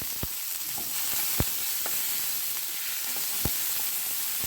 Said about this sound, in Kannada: ಸಣ್ಣದಾಗಿ ಹೆಚ್ಚಿರೋ ಒಂದು ಮೀಡಿಯಂ ಸೈಜ್ ಈರುಳ್ಳಿನ ಹಾಕ್ತಾ ಇದ್ದೀನಿ